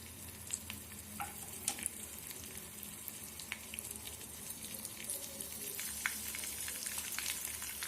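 Spices with a pinch of turmeric being stirred in a frying pan for a home cold remedy give a faint, steady sizzle, with scattered light scrapes and clicks from the spoon throughout.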